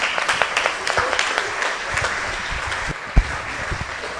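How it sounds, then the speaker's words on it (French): An audience at a French round-table event applauds in a full, sustained burst of clapping, with a few sharper individual claps standing out near the end. "on l'applaudit"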